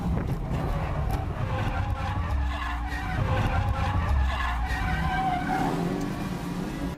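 A 2007 Mazda MX-5 NC ragtop race car with a built 2.5 engine skids through wheel-to-wheel racing, its tires squealing over a loud, steady engine roar that continues throughout.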